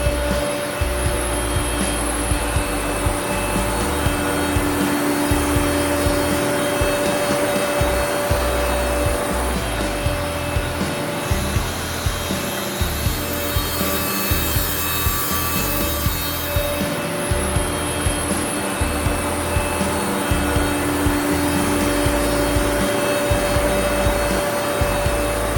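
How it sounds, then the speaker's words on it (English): An Ironwood DSP 2500 dual surface planer runs steadily while planing wood, a loud continuous machine roar with a steady motor hum and rough cutting texture throughout, no voices. "to take a look at the Ironwood DSP 2500 dual surface planer"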